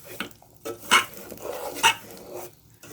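Jaggery and ghee stirred together in a pan, with a few scraping strokes and clinks of a spoon against metal amid a low sizzle.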